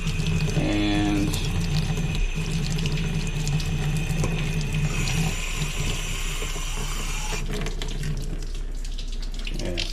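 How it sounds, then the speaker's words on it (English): Water pouring and splashing onto a floor from a hot water supply setup with no drain pipe, a steady, loud rushing that runs throughout with faint mechanical clanks over it. "yeah, see, it's just leaking on the floor."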